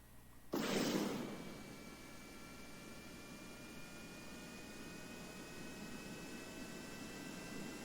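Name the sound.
aircraft taking off from a dirt runway in the video game Kerbal Space Program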